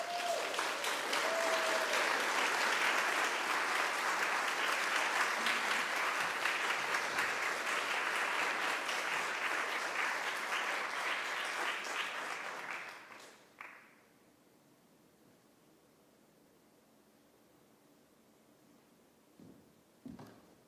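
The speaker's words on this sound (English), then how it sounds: "So if we could get a round of applause for these graduates." An audience at a graduation ceremony applauds the graduates loudly for about thirteen seconds, then the clapping stops abruptly, leaving a quiet room with a few faint noises.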